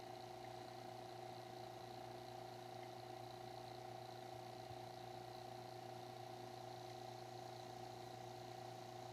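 A vacuum pump pulls a vacuum on mini split heat pump refrigerant lines, giving a steady, even mechanical hum with strong tonal whine that holds unchanged throughout, close and alone.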